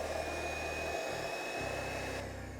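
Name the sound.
whisking egg whites for meringue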